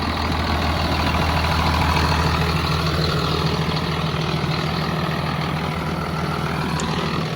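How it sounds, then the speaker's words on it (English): An old, very clean 78 tractor idles with a steady, low diesel rumble, close and unchanging, with no talking over it. "Just an amazing tractor here."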